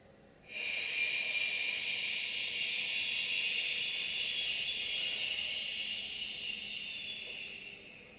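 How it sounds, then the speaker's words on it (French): A long, deep inhalation during a prenatal yoga routine, a steady airy hiss that starts abruptly, holds close and clear for several seconds, then slowly fades, with no talking over it. "Encore une fois, inspirez."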